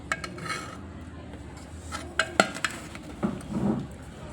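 Metal pot of fish curry shifting and scraping on the stove as it is stirred, a few sharp clinks and scrapes over a quiet background with faint sizzling.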